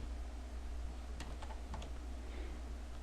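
A short command typed on a computer keyboard in an MS-DOS session, a quick run of about half a dozen key taps over a steady hum of computer fan noise.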